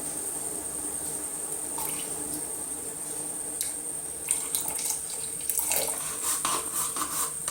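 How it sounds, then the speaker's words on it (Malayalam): Premixed dye powder solution pours into a pot of boiling water, giving a steady watery rush and splashing that grows busier toward the end. "ഇപ്പൊ വെള്ളം തിളച്ച് വന്നതിലോട്ട് നമ്മൾ ഓൾറെഡി മിക്സ് ചെയ്ത് വെച്ച ഡൈ പൗഡർ"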